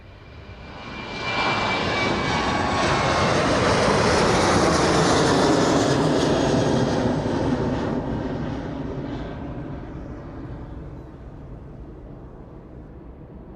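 A jet departing East Midlands Airport builds quickly to a loud, broad engine roar, holds it for several seconds, then fades steadily as the aircraft climbs away, with no voices over it.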